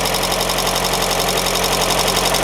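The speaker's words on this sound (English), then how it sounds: "So as the brake cleaner is finding its way into wherever that's pulling air in, the engine speed's dipping." A car engine with a carburettor and an air leak idles with a constant droning hum and slight vibration, its speed dipping as brake cleaner is drawn into the leak, no voices present.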